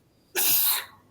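A single sharp sneeze, loud and close, bursting out abruptly for about half a second and then cut off, alone in a quiet room with no talk.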